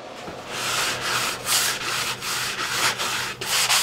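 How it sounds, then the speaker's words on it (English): An orbital sander grinds across wooden cabinet parts up close, sanding to 120 grit, a constant gritty rasp over a low motor hum, swelling and easing in rhythmic passes. "I sanded these all down to 120 with the orbital"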